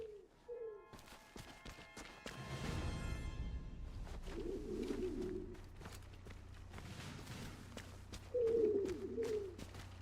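Pigeons coo in the video game Sniper Elite 5, soft throaty calls in short bursts at the start, in the middle and near the end, over footsteps, thumps and low game ambience.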